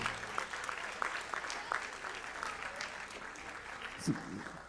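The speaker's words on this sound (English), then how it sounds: "Can you just give them a big round of applause again?" Steady audience applause at a middle school spring concert, after a percussion ensemble, fills the space, a dense wash of clapping that holds throughout without a break.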